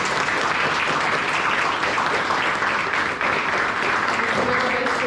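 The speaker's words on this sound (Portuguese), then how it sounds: "Você pode dar uma salva de palmas." A church congregation claps during a pastor's sermon, giving a steady, full round of applause from many people that holds at an even level throughout.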